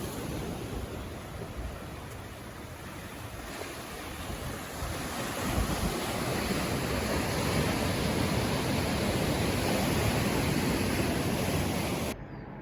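Pacific Ocean surf breaks against the cliffs of the Malibu coast near Los Angeles, a broad continuous wash of waves mixed with wind buffeting the microphone, swelling louder midway and holding steady before cutting off.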